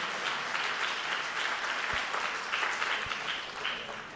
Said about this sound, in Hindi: तो एक जोरदार तालियां और उसके बाद आगे बढ़ते हैं।